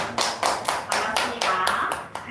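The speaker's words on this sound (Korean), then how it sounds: "우리 박수" A youth congregation at a church service claps in a short burst of sharp, fairly even hand claps, close and loud, slowing toward the end.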